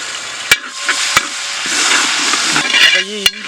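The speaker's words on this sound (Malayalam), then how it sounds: "ഈ ഇഞ്ചി വെളുത്തുള്ളി പേസ്റ്റ് നല്ല രീതിയിൽ എണ്ണയിലിട്ട് നമ്മൾ മൂപ്പിക്കണം" Ginger garlic paste frying in hot coconut oil, a loud, close, continuous sizzle with a few sharp knocks of a spoon against the pan.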